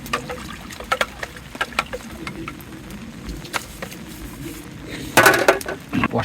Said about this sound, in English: Bit of washing up.